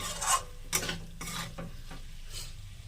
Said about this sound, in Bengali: পোস্তটা দিয়ে দিয়েছি নেড়ে নেব